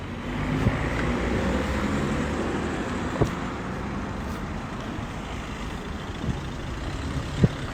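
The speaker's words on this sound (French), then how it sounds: "Ah, les voitures, les voitures." Steady road traffic at the entrance to Pertuis, with cars and heavier vehicles rumbling past continuously and a few sharp knocks standing out over the constant roar.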